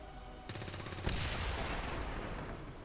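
Gunfire in XCOM 2: War of the Chosen, a burst of shots at a Claymore opening partway in, with a sharp louder crack near the middle and then a sustained rattling, booming tail that fills the rest of the moment.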